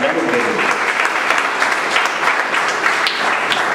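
Audience applauding at an award ceremony at a technical institute, steady dense clapping from a crowd, loud and continuous throughout with no break.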